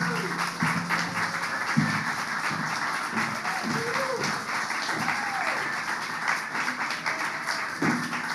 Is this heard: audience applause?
yes